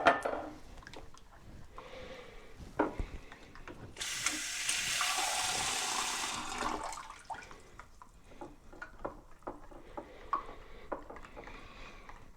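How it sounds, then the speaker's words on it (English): Half a cup of water and molasses being stirred into birdseed in a bowl, making a steady wet scraping and clinking of seed against the bowl that swells into a loud continuous churn midway, then settles into lighter scattered stirring. "I'll go ahead and add my half cup of water plus the molasses and just start mixing that up again"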